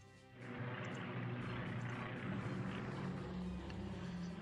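Fighter aircraft in the World War II strategy game Strategic Command WWII drone steadily, a continuous low propeller-engine rumble that swells in after a brief pause and holds evenly.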